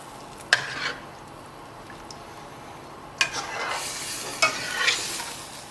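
Gulai kambing, a Javanese goat curry, cooking in a pot gives a steady low hiss of bubbling, broken by a few sharp utensil clinks near the start and again later on.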